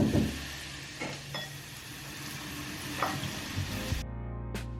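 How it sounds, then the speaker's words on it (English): Hot oil poured over flour, garlic powder and white pepper for scallion pancakes hisses and crackles in a dense sizzle with a few soft knocks, then cuts off abruptly near the end, close by. "And to this we're going to add the hot oil carefully"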